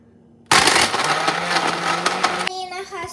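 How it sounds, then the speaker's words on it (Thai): A kitchen blender whirring loudly as it blends a strawberry banana smoothie, starting abruptly and running steadily at close range, with its pitch shifting partway through. "เราก็ใส่ส่วนผสมทั้งหมดลงมาในเครื่องปั่นแล้วแล้ว เราก็จะปั่นเลยนะคะ"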